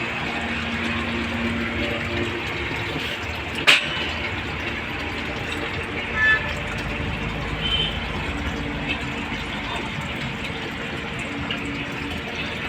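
Water from the top panel of a window air cooler trickles down through a pipe into a drum below, with a pump sending it back up. The rush is steady and continuous, with no voices.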